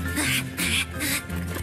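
A cartoon duck quacks in a series of four nasal, buzzy quacks spaced evenly apart, loud and close, with a low hum underneath.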